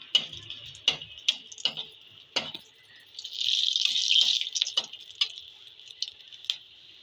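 A spoon stirs four cardamom pods and three cloves in a hot cooking pan, giving irregular light clinks and taps with a brief sizzling swell midway, close and fairly soft.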